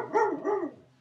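A dog gives two quick close barks in a row, the second trailing off into quiet, heard alone during an indoor math lesson.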